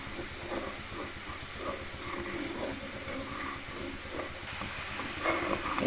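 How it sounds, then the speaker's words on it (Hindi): Jaggery syrup boils vigorously in water in a cooking pot, a continuous close hiss and bubble with dense crackling that holds steady throughout. "ये चाशनी इस तरीके से खौल रहा है"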